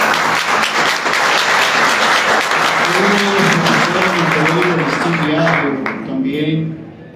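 An audience at a posthumous tribute to a journalist breaks into loud sustained applause, with a voice speaking over the clapping before it tapers off at the end.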